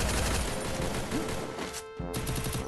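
Gunfire in the mobile battle game Free Fire: a dense, loud burst of rapid shots that breaks off briefly near the end, then resumes with further shots.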